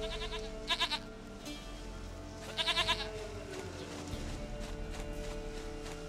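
Short, quavering goat bleats from The Witcher 3: Wild Hunt come in two clear bursts, near and fairly loud, over a steady hum of game ambience.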